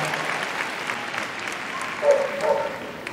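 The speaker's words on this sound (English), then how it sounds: "Let's hear it for Diva, everybody" Steady clapping from a crowd at an RAF Police Dog Display Team show carries on for a few seconds with a brief swell near the end, and faint voices murmur underneath.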